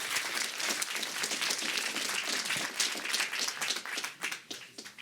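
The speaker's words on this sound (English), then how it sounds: "One last round of applause for Bodo." A conference audience at a Google X Prize event in New York claps in a sustained round of applause that holds steady, then thins into scattered separate claps toward the end.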